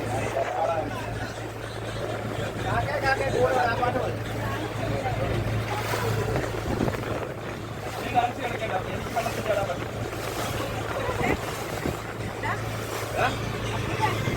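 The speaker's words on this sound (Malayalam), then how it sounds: "സ്പീഡ് ബോട്ട് പോലെ ഗൈസ് വരുന്നത്" A speedboat engine drones steadily with wind buffeting the microphone and water noise, while people talk over it throughout.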